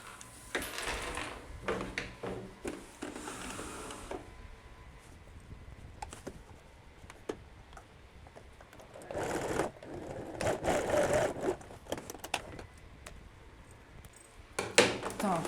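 Sewing machine stitching a seam on a long vest, heard in short close bursts of rapid mechanical whirring between quieter handling sounds, scrapes and rustling.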